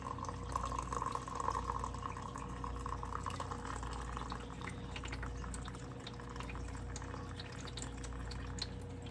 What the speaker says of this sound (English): And then I pour my coffee over it and it will melt the collagen.